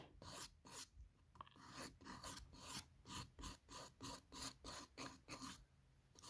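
Rhythmic rasping strokes of a hand file on nails, about a dozen quick back-and-forth scrapes, close and fairly quiet, with no talking.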